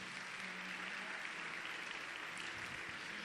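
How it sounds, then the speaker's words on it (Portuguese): Audience applause fills a church during an evening Catholic service, a steady, even wash of many hands clapping at moderate distance with no voices over it. "Dá uma salva de palmas à palavra de Deus"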